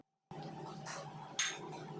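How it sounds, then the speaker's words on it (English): Boiled chana being stirred into masala in a pan for hotel-style chana masala gravy, with scraping of a spoon against metal and a brief clink, steady and close with a soft sizzle underneath. "Mix this well together"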